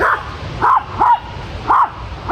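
A dog barks four times, short sharp yaps spaced irregularly, loud and close, with quiet gaps between them.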